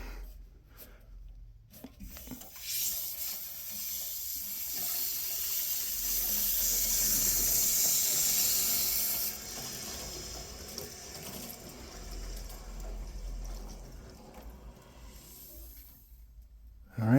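Water rushing into a house plumbing system as it fills, a steady hissing flow that swells loud in the middle and tapers off near the end, with no voices.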